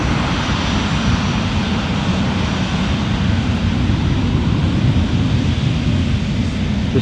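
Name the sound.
airliner taking off from Edinburgh Airport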